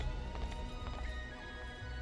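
A horse gallops in the Unicorn Overlord video game, its hoofbeats a faint, quick, muffled rhythm under low background game sound.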